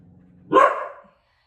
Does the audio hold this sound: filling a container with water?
no